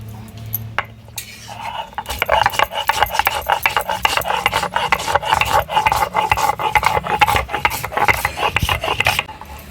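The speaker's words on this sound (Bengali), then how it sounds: "গোটা গরম মশলা বেটে নেব" Whole garam masala, cinnamon, green and black cardamom, black pepper and cloves, is ground on a village grinding stone, making a close, rhythmic rasping scrape. The strokes repeat steadily after a quiet start.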